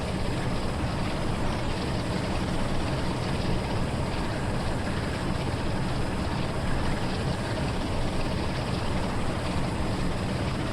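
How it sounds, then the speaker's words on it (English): A diesel train engine idles in Train Sim World 5 on the East Coast Main Line, a dense, unbroken rumble and hum that stays loud and steady throughout with no voices. "I'll get drowned out by the engine."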